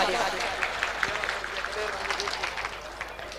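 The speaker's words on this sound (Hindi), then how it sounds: "अपने राजस्थान के लिए एक बार जोरदार तालियां" Sustained applause from an audience at an evening stage event in Rajasthan, a crackling wash of many hands with a voice speaking over it.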